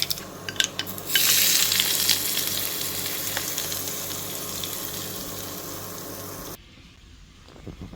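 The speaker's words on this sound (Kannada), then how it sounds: "ಒಂದು ಟೀ ಸ್ಪೂನಷ್ಟು ಎಣ್ಣೆ ಎಣ್ಣೆ ಬಿಸಿ ಆಗ್ತಾ ಇದ್ದಾಗೆ ಸಾಸಿವೆ ಕರಿಬೇವು ಹಾಗೂ ಮೆಣಸು ಹಾಗೆ ಒಂದೆರಡು ಚಿಟಿಕೆಯಷ್ಟು ಇಂಗು" Mustard seeds, curry leaves, chilli and a pinch of asafoetida sizzle loudly in a teaspoon of hot oil, a dense crackling hiss with a few sharp pops at the start that fades off abruptly.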